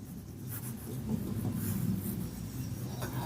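Pen writing on paper while working a Class 10 surface area and volume maths problem, a steady soft scratching that runs close and continuous for a few seconds without pause.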